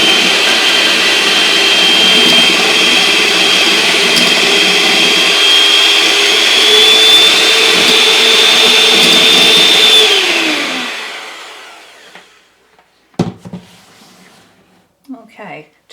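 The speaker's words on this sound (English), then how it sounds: "We're just going to beat these just a little bit before we add our dry ingredients." A loud electric mixer whirs steadily for about ten seconds, beating three eggs in a bowl for a pumpkin roll cake batter, then winds down and stops, leaving a few faint knocks and clatters.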